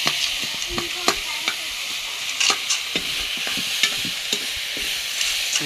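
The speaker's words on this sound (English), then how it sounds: "now I am cooking onion" Onion fries in a pan with a constant loud sizzle, and a spoon scrapes and taps it throughout in irregular clicks.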